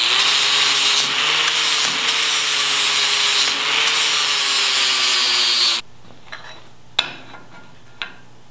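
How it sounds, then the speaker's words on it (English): An angle grinder bevels steel plates clamped together for a home-built front bumper, a loud steady whine for about six seconds, then it cuts off and a few sharp metal clanks follow. "I'm going to bevel that with the angle grinder"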